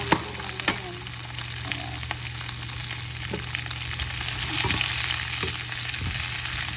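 Vegetables and chili leaves sizzle steadily in a hot pan after onions, a constant dense frying hiss with a few sharp clinks and stirring scrapes, close and fairly loud with no voices.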